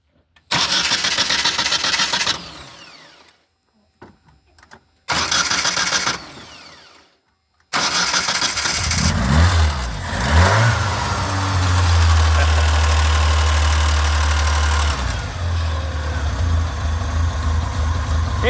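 A 1980s Ford Escort with an upgraded starter cranks in several short, quick bursts with gaps between them. It then catches and settles into a steady mid-pitched idle, loud and close with no talk.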